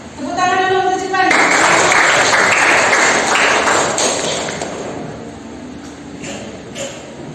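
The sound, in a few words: applause for a student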